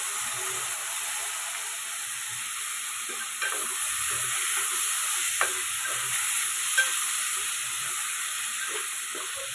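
Chopped tomatoes frying in hot oil for an egg curry, a steady close sizzle and hiss running throughout with occasional soft scrapes and knocks of stirring, no voices.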